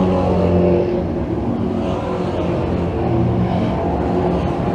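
Stock cars racing around a short oval track, a loud continuous roar of several engines blending together, steady and dense with slight swells as the field runs through a turn.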